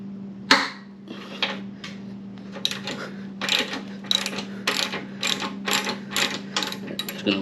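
Ratchet with a 9/16 socket loosening a bolt on a Harley-Davidson Low Rider ST, a sharp first click, then a run of close, regular ratcheting clicks over a steady hum.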